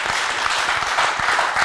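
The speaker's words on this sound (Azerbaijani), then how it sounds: "Gəlin biz xanımlarımızı alqışlayaq" A studio audience applauds the women at a TV talk show, giving a continuous crowd clap with sharp individual hand strikes in front of a broad, even roar.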